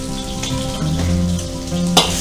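Marinated chicken and prawns fry in a pan of oil while being stirred, giving a close, steady sizzle with scraping movement and a sharp clink near the end.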